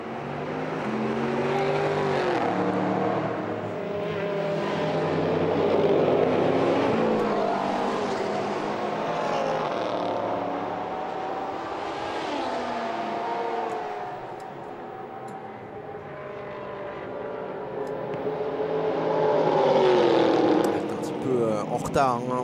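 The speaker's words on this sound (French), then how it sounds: "il doit voir revenir très rapidement Archie Hamilton avec la Corvette du SRT" Corvette GT race cars roar around the Monza circuit during an International GT Open race, a sustained loud engine drone that rises and falls as cars pass, under continuous commentary.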